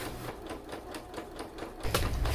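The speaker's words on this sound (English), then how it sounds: "Now that we sewing the box size" Sewing machine stitching a pillow case, a rapid close mechanical clatter of even needle strokes that shifts to a heavier hum near the end.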